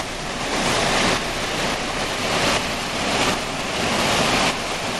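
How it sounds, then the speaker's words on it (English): A waterfall on a hike roars with a dense, continuous rush of falling water, loud and close and steady throughout, with no voices. "Very nice falls."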